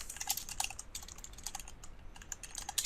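Steady typing on a computer keyboard, quick irregular key clicks going on throughout, close and fairly quiet.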